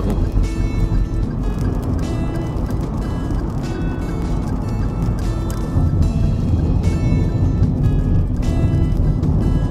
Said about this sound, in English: At 80, we are freewheeling and the engine is ticking over at about 1500 RPM.